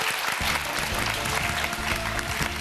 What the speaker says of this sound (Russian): Игра великолепная, аплодисменты звучат в вашу честь.